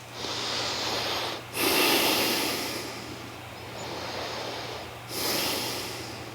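Slow, deep breaths from someone lying flat on the floor in a brief resting pose during a yoga flow: long airy inhales and exhales come and go close up over a faint steady hum.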